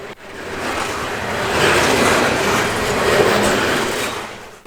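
A Canadian Pacific coal train with a distributed power unit rolls past close by on the Windermere subdivision in British Columbia, a loud sustained rumble and wheel roar swelling in the middle and easing toward the end.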